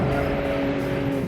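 A fully carbon-fiber Porsche 935 race car runs close by, its engine holding a steady, dense drone with a constant tone and no pauses.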